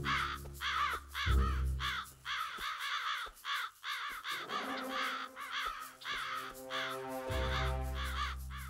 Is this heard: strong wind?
no